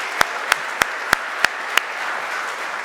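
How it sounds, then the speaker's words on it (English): An audience at a RES4Africa ten-year anniversary event applauds, with a soft wash of clapping under a few sharp, evenly spaced nearby claps that fade out after about two seconds. "I would ask to you an applause to Roberto once more."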